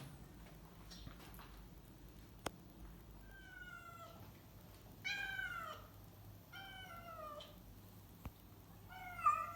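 Several cats meow in drawn-out, overlapping calls, growing louder toward the end, with faint ticks and room noise between.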